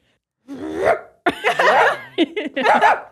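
A person imitates a dog with a few short, throaty barking bursts, close and loud, followed by quick yelping sounds.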